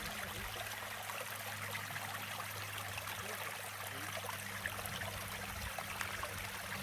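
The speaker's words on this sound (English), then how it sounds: "Great water source right on the trail." A small stream of water flows beside a hiking trail on the Appalachian Trail, a soft, steady trickling and burbling heard from close by with no voices.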